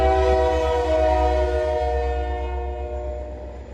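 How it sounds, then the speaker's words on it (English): Loud, sustained train horn blaring nearby over a heavy rumbling engine, slowly fading as it moves off. "here comes the train"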